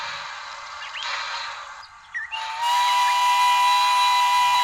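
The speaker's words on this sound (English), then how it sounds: "heard the whistle blow as the train started to move" A steam train's whistle blows as the train pulls out of a station, a loud, steady high tone that swells and holds to the end, with hissing steam beneath it and no voices.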